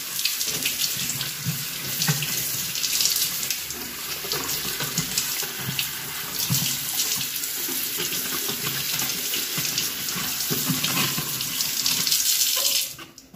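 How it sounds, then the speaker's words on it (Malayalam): Yam flowers are rinsed under a running kitchen tap, a steady splashing gush of water into a sink that continues throughout without pause. "നന്നായിട്ട് കഴുകി വൃത്തിയാക്കി എടുക്കാം."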